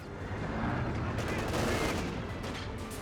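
A .50 cal machine gun fires in the video game Company of Heroes, a dense, sustained rattling barrage that stays loud and close for the whole stretch amid a thick wash of battle noise.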